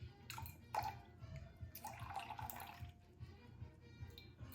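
Filtered water is poured into sourdough dough in a home kitchen, a soft, uneven splashing trickle that comes close and fairly quiet with a few brief louder splashes.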